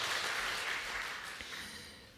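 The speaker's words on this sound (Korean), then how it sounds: "오늘 영광의 박수를 드리겠습니다" A church congregation at a Christmas Day service gives a round of applause, a broad wash of many hands clapping together that stays steady and then slowly fades away.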